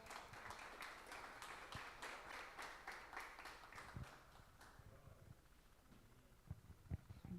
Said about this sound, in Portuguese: Aplauda Jesus em nome de Jesus.